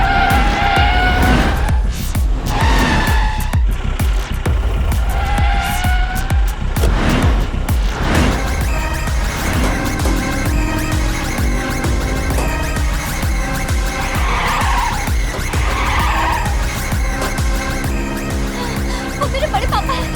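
Movie-scene car audio: an engine revs hard and tyres screech and skid as the vehicle speeds off, loud and continuous under music and effects with sharp repeated bursts.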